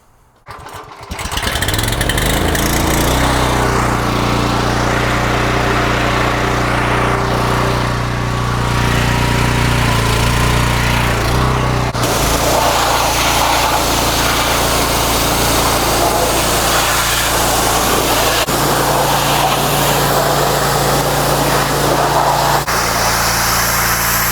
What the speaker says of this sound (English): let's go ahead and pressure wash this frame